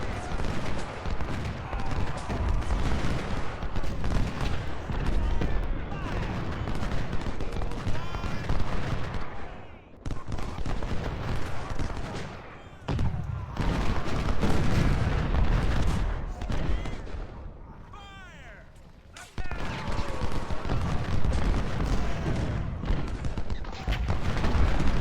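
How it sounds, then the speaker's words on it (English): Cannon artillery in the Ultimate General battle game booms in a dense, continuous barrage near a fort defense, volleys rolling over one another with brief lulls, loud throughout. "So let's start focusing cannons on them."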